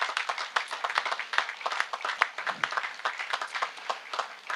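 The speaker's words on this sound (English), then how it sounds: "So give all of these guests a round of applause." Guests at a groundbreaking ceremony for Creighton's baseball and softball fields clap, with distinct individual handclaps in a steady, fairly sparse patter rather than a dense roar, moderately close throughout.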